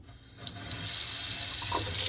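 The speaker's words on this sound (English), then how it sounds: "you will clean your hands with water" Tap water gushing into a sink for hand washing at a drug-test specimen collection site, starting after a few clicks and then running in a steady close rush.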